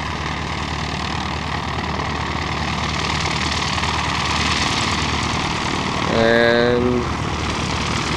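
A light aircraft's propeller engine drones steadily during a landing at French Valley airport, with a brief tonal chirp near the end and a single spoken word.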